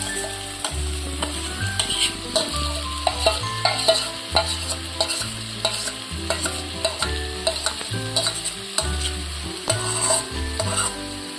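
Green spinach paste ground with green chillies sizzling in a hot pan of spices, with frequent scraping and clacking of a spoon stirring steadily; close and continuous, with a rhythmic tune running underneath.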